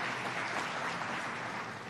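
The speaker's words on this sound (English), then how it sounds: "You can give yourself a round of applause." Crowd applause at an I-81 highway groundbreaking ceremony, a continuous even wash of many hands clapping at a distance with no distinct individual claps, holding at a moderate level throughout.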